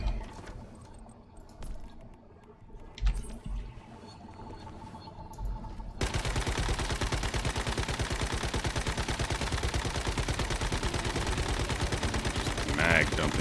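Sustained automatic gunfire in the game Once Human as a whole magazine is emptied, a dense unbroken rapid rattle that starts abruptly and runs loud for the rest of the clip, after quieter game sounds and a few softer shots.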